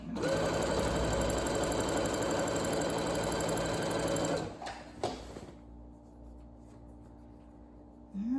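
A sewing machine stitching fleece runs in a fast, steady burst for about four seconds, then stops, leaving a low background hum.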